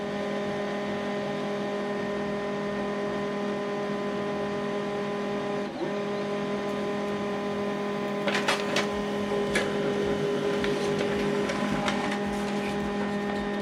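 An HP LaserJet black-and-white printer runs a print job with a steady, even mechanical whir and hum, then several faint clicks and ticks of paper moving through near the end.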